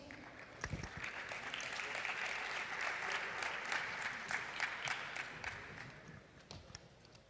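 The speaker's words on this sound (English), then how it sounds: "An applause for him also" A conference hall audience at a pitch competition claps for a presenter coming on stage, the sustained applause rising to a peak and then tapering off, moderately distant.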